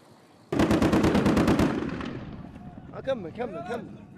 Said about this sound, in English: firing widely into the air at a target they cannot see.